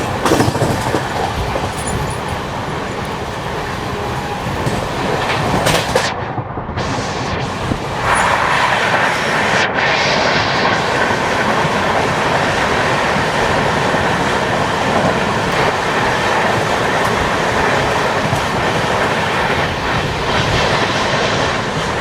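The 22157 Mail SF express runs on after departing Yerraguntla, a loud continuous rumble with rhythmic clickety-clack of wheels over rail joints, briefly dipping around a few seconds in, then steady to the end.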